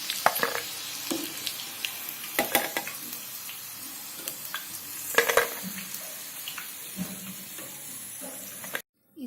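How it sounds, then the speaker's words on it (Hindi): Soya chunks sizzle in hot oil in a kadhai for soya chilli, with a steady crackling fry broken by scraping stirs and clinks from a spoon, close by and without talk. "सोया चंक्स अच्छे से तल चुके हैं।"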